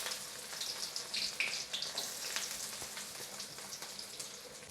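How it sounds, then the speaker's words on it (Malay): Onions frying in two tablespoons of hot cooking oil, a steady close crackling sizzle with dense spattering pops that holds evenly throughout, no voices present. "Mula kita panaskan 2 sudu makan minyak masak. Setelah panas, kita masukkan bawang Holland."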